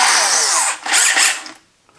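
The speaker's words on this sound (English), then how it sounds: "You're going to drill your first hole." A power drill boring a hole for a homemade foam board hinge cutting tool, with two loud close whining bursts separated by a brief dip, then the motor spins down to quiet.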